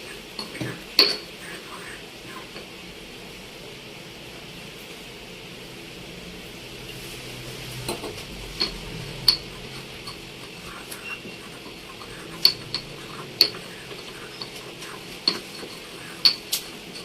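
A mixture is ground smooth little by little, probably with a pestle in a mortar, giving faint scraping under a quiet background and a series of sharp intermittent clinks and taps, some spaced and some in quick pairs.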